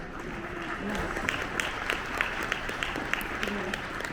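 Applause from a convention panel audience honoring teachers, a steady wash of clapping with scattered sharper claps, moderately loud and sustained throughout.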